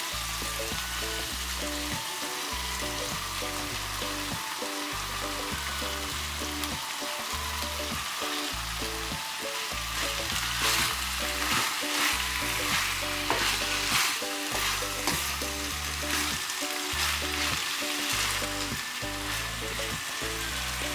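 Spring onions and mushrooms stir-frying for a beef stir-fry, a loud steady sizzle with rhythmic stirring and pan scraping throughout, close up and with no voices.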